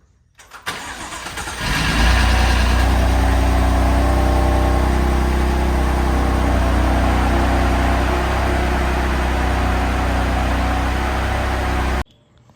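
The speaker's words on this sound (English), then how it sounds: "But yeah, she did start right up." A wrecked BMW M4 cranks and fires up for the first time after repairs, catching within about two seconds and settling into a loud, steady idle that runs on until it cuts off abruptly.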